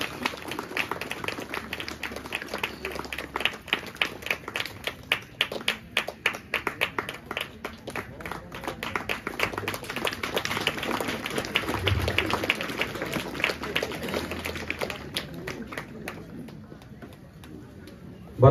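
An audience at a parish golden jubilee gathering claps in a dense, sustained burst of applause lasting well over ten seconds, fairly loud and close, swelling and then thinning out toward the end.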